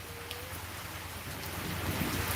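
Steady, dense rain pours down in a Sylhet village at night, a continuous close hiss that swells slightly louder toward the end, with no voices.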